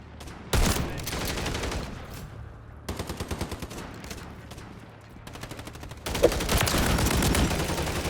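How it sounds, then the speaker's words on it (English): Gunfire in Call of Duty MW3 on a Domination match, several loud bursts of rapid shots separated by brief quieter gaps, close and dominant. "I got knife first, so I'm going to bust out my shotgun."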